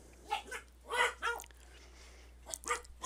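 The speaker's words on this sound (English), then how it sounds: "My dogs are having a fit for some reason." Several dogs bark indoors in short, sharp bursts, two clusters of yaps and barks separated by a quiet gap, heard at moderate distance in a quiet room.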